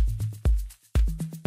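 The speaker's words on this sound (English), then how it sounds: "You can also duplicate the shaker loose layer and choose another sample" A duplicated loose shaker loop layer, panned right, plays a short house percussion pattern of quick shaker hits with low tonal thumps roughly every half second, clean and upfront with no voices.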